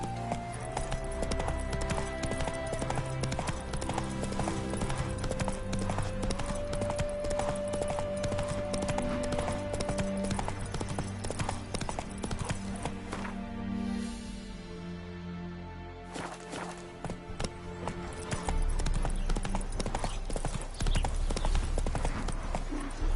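Horse hooves clatter in a steady galloping clip-clop in The Witcher III, heard over a dense bed of game music that fills the scene.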